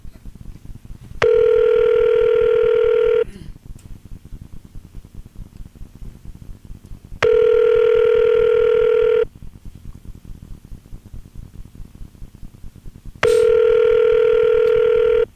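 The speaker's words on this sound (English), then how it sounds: "That didn't sound like his ring." A telephone ringback tone on a call to a home phone: three long steady tones about two seconds each, spaced evenly with quiet gaps, over a faint background hiss.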